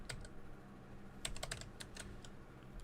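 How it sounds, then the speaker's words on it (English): Quick, light clicks of a computer keyboard tap out a short burst of typing at close range, faint and irregular over a low hum, with no talking. "Let's type in dForce."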